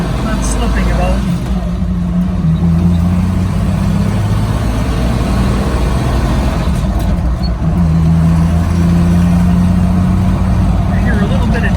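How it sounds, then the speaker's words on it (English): A 1983 Jeep CJ7 engine runs steadily with slight dieseling, a loud, close, continuous low rumble with a faint voice underneath. "I hear a little bit of dieseling, maybe coming from some cheap fuel."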